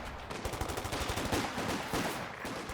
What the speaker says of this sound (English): It's just a G43 going off